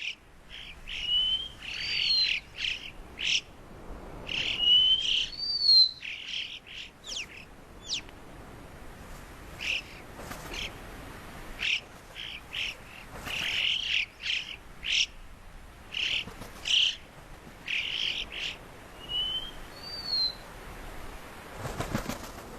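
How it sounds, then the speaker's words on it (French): Yellow-billed alpine choughs call in a mountain meadow, giving repeated high, whistling chirps in irregular bursts, some near and some farther off, with wind and flapping between the calls. "Des chocards à bec jaune qui lancent leur chant dans les courants d'air"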